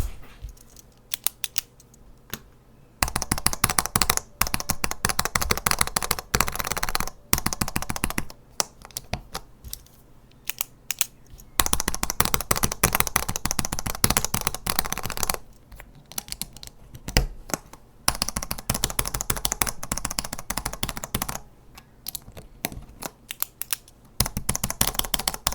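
Mechanical keyboard fitted with ZNX switches clatters through bursts of fast typing, crisp and close, with short pauses between runs and no voices.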